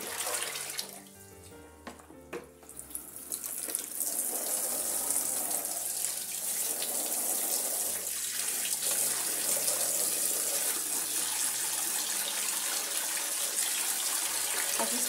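Steady running water from a tap streams continuously, with soft splashing and squishing as dyed silk fabric is gently squeezed under the flow.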